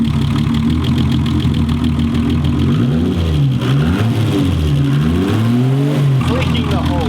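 A car engine with a faulty turbo leaking boost air revs up and down loudly with a hissing, rushing air tone, wavering in pitch over a rough running note, close up, with people talking at times.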